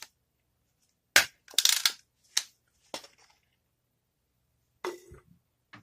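BB gun pellets fired through an aluminum can: several sharp, separate cracks and metallic pops in an otherwise silent space, close and loud, with irregular gaps between shots.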